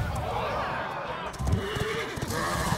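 A horse neighs from a card in the Hearthstone video game, a short whinny with clip-clop hooves heard over busy game music and effects.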